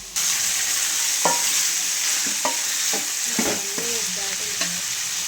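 A spoon stirs and mixes masala of coconut, chili powder, salt and coriander powder in a hot pan, with steady frying sizzle throughout and several distinct scraping strokes, close and alone.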